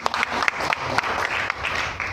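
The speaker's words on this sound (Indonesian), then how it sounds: "Tepuk tangan dulu buat Tuhan Yesus" Congregation clapping during a church service, a loud, lively burst of many hands with a few sharper individual claps standing out, continuous for about two seconds.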